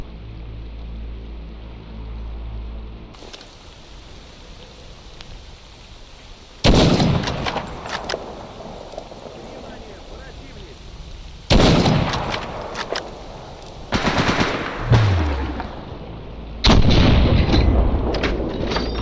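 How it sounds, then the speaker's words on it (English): A PGM Hecate II sniper rifle firing in the Stalker Zona video game: about five loud, booming single shots spaced several seconds apart, each with a long rumbling tail, and no talking. "We also have a French sniper, the PMG Hecate-2."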